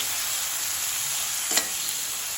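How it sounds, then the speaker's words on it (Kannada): Chopped tomato dropped into onions frying in oil, giving a continuous bright sizzle with one brief louder burst partway through, close and steady with no talking. "ಈರುಳ್ಳಿ ಫ್ರೈ ಆಗ್ತಿದ್ದಾಗೆ ಹೆಚ್ಚಿಟ್ಕೊಂಡಿರುವಂತಹ ಟೊಮೆಟೊವನ್ನು ಹಾಕ್ಕೊಳ್ತೇನೆ"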